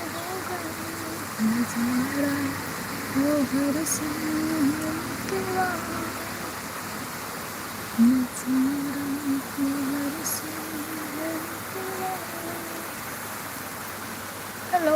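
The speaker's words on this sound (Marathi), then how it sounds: "आमच्या इकडे सोलापूरला खूप छान मोठा पाऊस पडत आहे" Heavy rain falls steadily in Solapur as a broad, even hiss that continues throughout, while a voice talks over it in the foreground.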